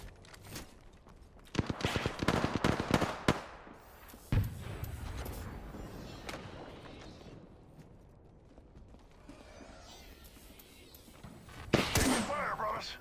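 Rapid gunfire bursts from the video game Apex Legends, loud clustered shots early on, then a single sharp crack and a quieter stretch before another loud burst near the end.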